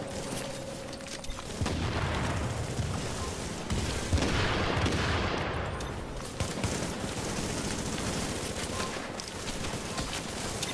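Grenade blasts and gunfire in a 4v4 online shooter match: dense bursts of shots and a broad explosion swell around the middle, loud and continuous with no talk.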